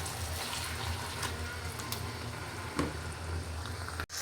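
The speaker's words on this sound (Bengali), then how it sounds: "এপাশ দিয়ে পালং শাক রান্না হচ্ছে" Spinach cooks in a pan with onion, chilli and shrimp, giving a steady close sizzle with faint bubbling and a brief scrape near the end, no speech.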